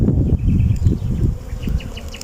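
Honeybees swarm around an opened beehive, a close, thick buzzing with fluttering wingbeats rising and falling continuously, with no voices present.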